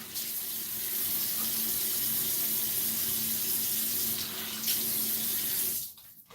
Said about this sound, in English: Just putting some cold water on now.